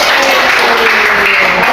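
A classroom of schoolchildren applauding after a group presentation, a loud, close burst of clapping that is fairly steady, with faint chatter mixed in beneath it.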